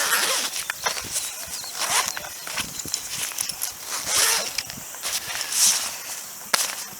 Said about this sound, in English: You can undo this and unzip these.